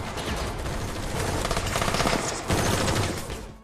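Sustained automatic gunfire from a terrorist shootout in the action film London Has Fallen, dense overlapping bursts of rapid shots rolling continuously, loud and close, with no voices.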